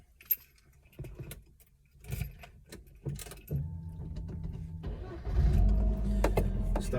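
A 2004 Rover Streetwise, engine already hot, is started after keys jangle and a few cabin clicks and thumps; the starter catches quickly and the engine settles into a steady, fairly loud idle close by.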